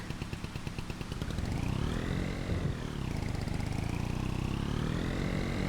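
A New Holland tractor engine runs steadily with a dense, rapid mechanical chatter, its tone rising and falling as the load changes, loud and continuous throughout with no talk.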